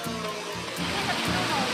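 Water pours and foams down the Liagnaw waterfall, a steady rushing roar with a faint pulsing low hum running through it.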